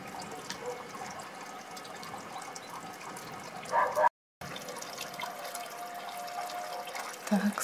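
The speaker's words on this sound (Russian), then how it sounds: "таять, бегут ручьи." Meltwater streams from thawing snow run steadily on a sunny morning, a continuous trickling wash with faint drips, briefly cut off near the middle.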